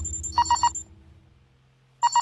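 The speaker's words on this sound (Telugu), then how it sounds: "సౌండ్ వస్తుంది, చెక్ చేయాలి. అది నీ సెల్ ఫోన్ రా ఎదవా." A cell phone ringtone chirps in two bursts of three quick electronic beeps, separated by a pause of low background noise.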